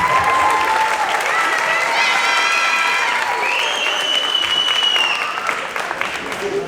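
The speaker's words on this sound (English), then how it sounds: "Let's give all the members one more round of applause" A large graduation ceremony audience claps steadily in a dense, loud wash while cheers and whistle-like voices rise above it, tapering slightly toward the end.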